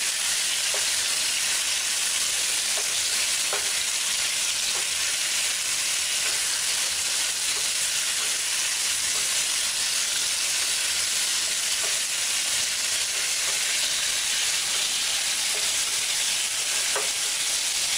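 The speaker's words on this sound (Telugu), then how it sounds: "మీడియం ఫ్లేమ్లో చికెన్ని కలుపుకుంటూ ఉండాలి." Chicken fries in a pan over a medium flame with a constant dense sizzle and hiss, while a spatula stirs it with faint intermittent scrapes, close and with no voices.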